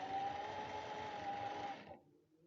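A sewing machine runs a seam on fabric for a shirt: a faint, steady motor hum with a fine stitching buzz for about two seconds, then it stops and falls quiet, with no voices.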